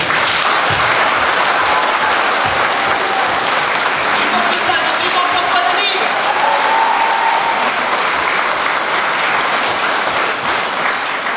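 A theatre audience at a musical comedy in Escaudain applauds an actor: thick, continuous clapping at full loudness for the whole stretch, with faint crowd voices and a brief tonal sound mixed in.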